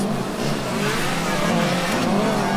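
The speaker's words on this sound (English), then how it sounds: "Hawks setting off on their next run too. Lovely sound of the Hawks car." Hawks team Formula Student race car pulling away on an autocross run, a steady engine note with rising harmonics across the whole stretch, moderately loud and slightly distant, with no talk over it.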